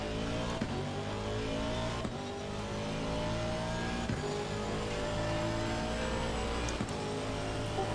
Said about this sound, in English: You can hear it just revving its guts out.